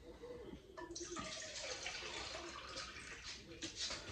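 Water poured from a bucket of settled tap water onto a potted orchid, a steady close splashing and trickling that runs through the whole stretch, with a brief voice at the start.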